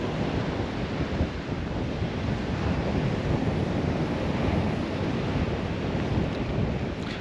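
Waves surge and wash onto a deserted, windy beach at a seaside village in south Crete, a continuous broadband roar with wind buffeting the microphone throughout.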